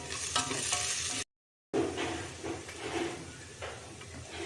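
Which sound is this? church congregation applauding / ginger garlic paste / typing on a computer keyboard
ginger garlic paste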